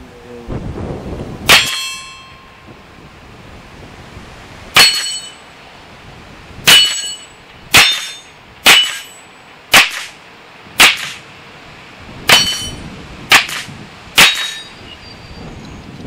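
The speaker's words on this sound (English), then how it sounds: "Graham shooting the steel." A boy shoots steel targets on a farm, each loud gunshot followed by a bright ringing clang, about ten hits spaced roughly a second apart after an opening shot, with no talking.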